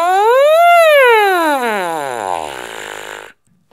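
A single French horn note buzzed through the mouthpiece rises, then glides slowly down in one loud, rich, sustained tone, ending abruptly before a brief silence.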